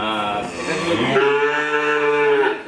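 A Holstein Friesian heifer on a Bangladeshi cattle farm gives a loud, close, drawn-out moo lasting a couple of seconds, rising into a sustained bellow, with no talk over it.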